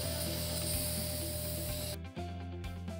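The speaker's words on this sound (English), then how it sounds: "get a can of engine degreaser, spray the contaminated area" A close, steady hiss of a can of engine degreaser spraying continuously onto an engine, then cutting off near the end with a faint clatter.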